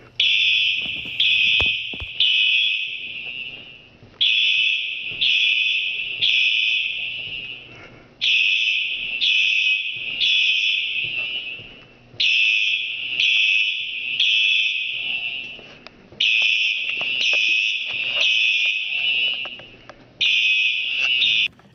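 A 1990s piezo fire alarm buzzer sounding code 3 temporal pattern: shrill high-pitched tones in groups of three short beeps separated by pauses, loud and clear, repeating throughout.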